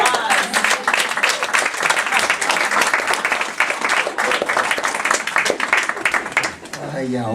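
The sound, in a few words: audience applause for a poet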